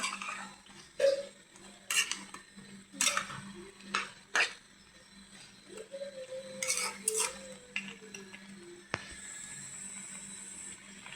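Meat being sautéed in a pan in a home kitchen, with repeated clanking of a spatula or spoon against the pan and intermittent scraping stirs over a faint steady hum.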